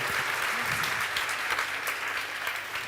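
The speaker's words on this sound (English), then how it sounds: "on peut l'applaudir, bien sûr" Audience applause for a chef during a cooking masterclass, a steady dense wash of many hands clapping, fairly loud and sustained throughout.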